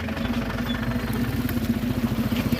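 Motorcycle engine idling steadily at close range with a rough, clattering rumble that continues throughout without stopping.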